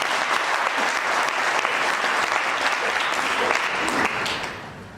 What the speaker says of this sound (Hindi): दीदी ने अकेले ताली बजाई